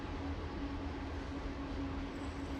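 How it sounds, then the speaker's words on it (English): A train rumbles past at a youth football playoff game, a steady low roar with a faint hum and no clear clatter, heard from a distance and fairly quiet. "That sounds like a train."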